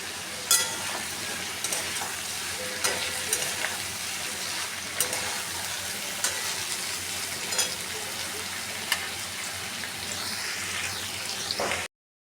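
Pumpkin, potato, eggplant and about five green chillies frying in a pan, a soft continuous sizzle with occasional sharp pops and stirring clatters, no speech.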